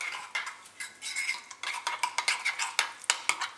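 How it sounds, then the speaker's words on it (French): Utensils stir and scrape through a vegan Thai salad with almond sauce in a bowl, giving quick repeated clinks and soft scrapes in an uneven rhythm, close and fairly loud, with no talking. "Ensuite, on mélange le tout."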